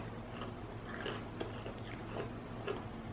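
Close chewing of an edible mealworm, soft crunchy bites and mouth sounds repeating irregularly, quiet over a low steady background hum.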